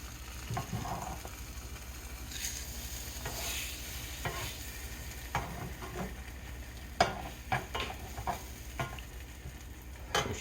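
French toast slices fry in a pan with an egg coating, a steady gentle sizzle running under scattered scrapes, taps and clinks of a utensil moving slices around.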